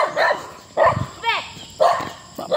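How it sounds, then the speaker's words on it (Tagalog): Several dogs bark in short bursts on a street near Peña Francia during a walk, with a yelp-like whine in between; the barks come in quick clusters at moderate distance, and people talk faintly around them. "Napakaraming aso dito sa may Peña Francia."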